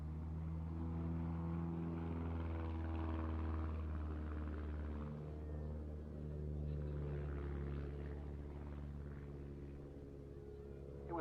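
A single-seat Pitts Special S1-derivative aerobatic biplane drones at a Duxford flying day, its engine a steady low rumbling hum with shifting tones, heard at a distance and fairly quiet.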